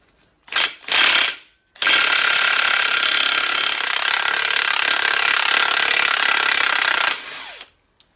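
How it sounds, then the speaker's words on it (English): A 33mm impact socket on a half-inch drive impact wrench removing a wheel nut on a 1973 Foden S80 lorry: two short rattling bursts, then a long loud continuous hammering run of about five seconds, with no talk. "we're going to use a 33mm impact on the half inch drive"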